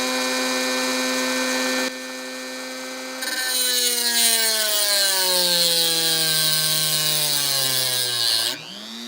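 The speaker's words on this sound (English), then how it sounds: "Turn on this Dremel. It's on about mid-speed." A Dremel rotary tool at mid-speed grinding a sharpening stone: a high, steady whine that drops in pitch and gains a gritty rasp when pressed into the stone, then winds down and stops, close and loud.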